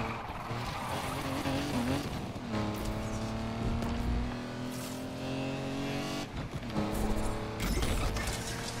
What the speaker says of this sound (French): j'aimerais bien qu'elle se teste celle-là pour qu'on écoute un peu le bruit du moteur